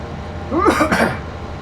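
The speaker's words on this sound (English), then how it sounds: "Sorry, coughing fit." A single rough cough or throat-clearing burst up close, rising briefly out of a low steady background hum.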